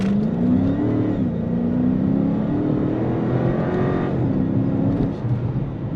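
Dodge Charger R/T with its 5.7 Hemi V8 drives along in a steady, loud, deep engine drone, pitch rising and easing slightly through gear changes, heard from inside with no talking.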